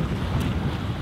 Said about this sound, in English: maybe around 60 to 70 knots of wind. And we're going upwind for a bit now,